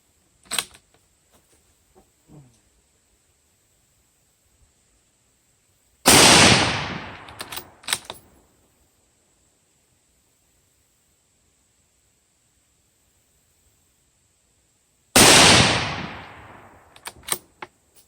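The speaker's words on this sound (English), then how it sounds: "So, we're going to take 2 shots, again, just a factory cheap brass case ammo, nothing special." Two sharp rifle shots from a Howa rifle firing cheap factory brass-case ammunition, spaced about nine seconds apart, each a loud crack with a brief ringing tail, outdoors with near silence between them.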